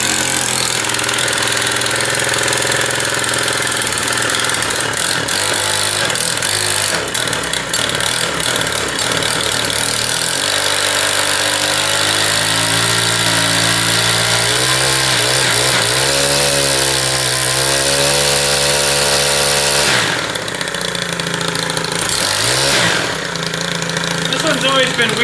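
Small two-stroke weed wacker string trimmer engines, cold-started after priming, sputter and catch before idling and revving with wavering pitch. Someone speaks briefly between runs.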